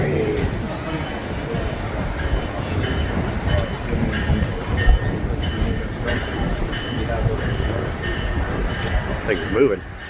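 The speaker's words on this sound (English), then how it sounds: "There it is. There's the train." A train rolls in and gets moving, its steady rumble and rail clatter continuing through the whole stretch, with occasional faint squeals and people talking nearby.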